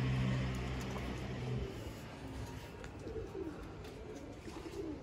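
Tumbler pigeons coo softly in a low, murmuring rumble, blending with a steady outdoor background hum and scattered faint noises across the whole stretch.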